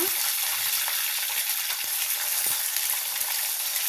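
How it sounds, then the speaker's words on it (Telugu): Fish pieces fry in hot oil for a crispy fish fry, giving a steady, dense sizzle with a few faint clicks and scrapes underneath. "చేప ముక్కలో నూనెలో వేయంగానే కలపొద్దండి అతికిపోతాయి"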